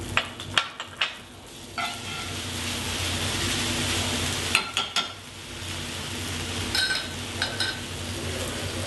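Forbidden rice hitting a hot pan in a test kitchen, with a steady frying sizzle and occasional scraping stirs and utensil clacks, close and continuous without speech.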